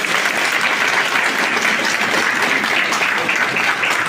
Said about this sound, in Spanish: un fuerte aplauso para la doctora.